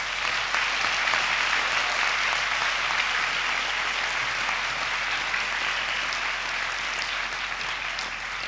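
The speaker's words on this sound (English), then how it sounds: "Let's give them a big round of applause." Graduation ceremony audience applauding, a loud, dense and even roar of clapping that holds steady, then eases slightly near the end.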